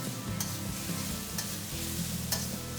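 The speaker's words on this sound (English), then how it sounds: "And just keep stirring" Shredded potatoes frying in a wok as they are stirred, with repeated spatula scrapes and clacks over a steady sizzle, close and moderately loud, no voices.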